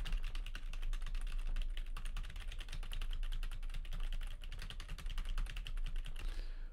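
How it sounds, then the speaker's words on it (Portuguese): Steady, rapid typing on a non-mechanical keyboard, heard close up through a microphone under test; dense clicky keystrokes continue evenly throughout, then stop abruptly near the end. "Vou fazer o teste aqui do teclado que todo mundo me pede, utilizando esse teclado aqui."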